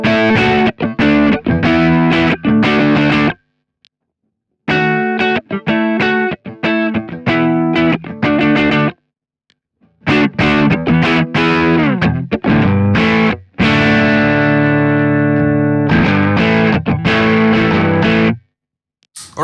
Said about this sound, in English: what you're hearing when I'm engaging this RC booster is it's actually boosting my